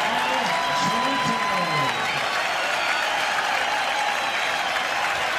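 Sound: baseball crowd cheering at Oriole Park at Camden Yards

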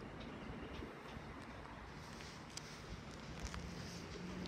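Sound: London Overground train passing

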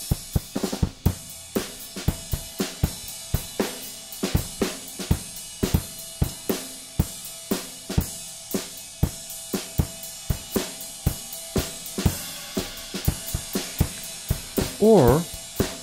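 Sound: track processed with Airwindows Stonefire plugin effect

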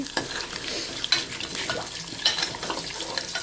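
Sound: ingredients frying in pan for amla pickle

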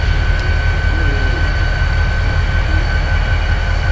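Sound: EMD two-stroke diesel locomotive in video game RailWorks 2014

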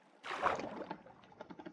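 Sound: rowing a boat in a video game

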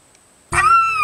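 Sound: cat

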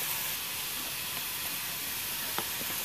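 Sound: tomatoes sizzling as they cook in a pan for pav bhaji

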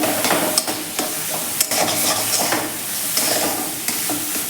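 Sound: stirring batasha and coconut barfi mixture in pan

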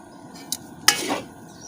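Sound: stirring capsicum masala rice in a pan

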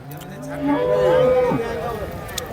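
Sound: cattle at Erode cow market

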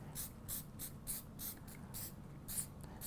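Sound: spraying hairspray over sugar flower

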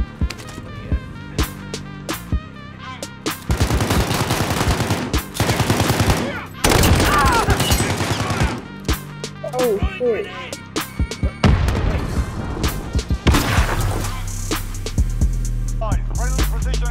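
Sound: gunfire in video game Call of Duty Warzone

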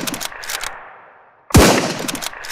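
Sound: rifle gunfire in video game SurrounDead

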